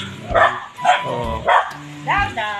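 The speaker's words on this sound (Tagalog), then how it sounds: "lahat ng mga alaga niyang aso dito, lahat may kanya-kanya pong pangalan" Several pet dogs at a home yard barking in a series of four loud, close, spaced barks, the last one rising into a yelping whine.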